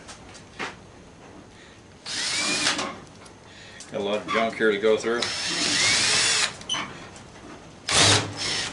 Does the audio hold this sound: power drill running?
yes